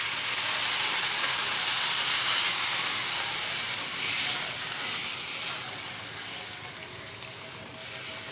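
Two cups of buttermilk poured into a hot pan with sizzled turmeric, giving a loud, steady hiss and sizzle that fades slightly over several seconds, with no talking.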